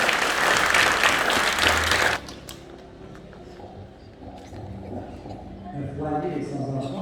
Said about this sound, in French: Sous vos applaudissements encore plus fort.